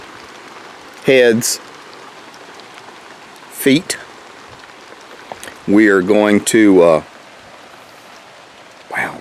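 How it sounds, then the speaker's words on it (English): Rain falls outdoors, a steady hissing patter throughout, with someone talking in short bursts over it. "wow, we're getting some rain."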